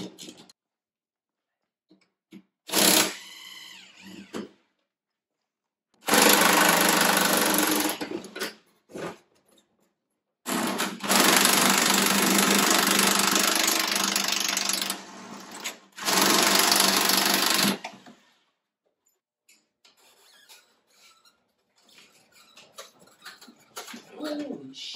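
A tool loosening the axle bolt on a skid steer track: several loud, sustained whirring bursts, each a few seconds long, separated by pauses with faint clatter.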